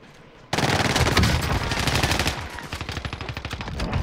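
Rapid automatic gunfire from the Warzone video game, a sustained burst of loud, dense shots followed by a steadier rhythmic string of individual rounds, close and dominant with no talk over it.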